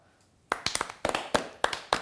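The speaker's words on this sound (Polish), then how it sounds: "Poproszę o brawa." Scattered hand claps from a small group as a Polish show opens its season, about six sharp bursts in a short ragged rhythm, close and fairly dry.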